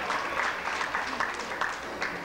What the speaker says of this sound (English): Give yourselves a round of applause for being here this evening.